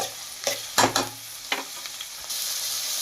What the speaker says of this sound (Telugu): తర్వాత టమాటా ముక్కలు వేసి కొంచెం కలపాలి.